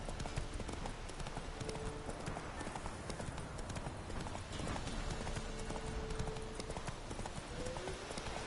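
A horse clip-clops along at a steady pace in The Witcher, hooves thudding continuously and close over dense game ambience.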